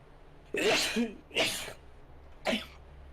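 A person in an online role-playing game session sneezes, three sharp, close bursts spaced about a second apart, the first and loudest breaking into a short double burst, with quiet room tone between them.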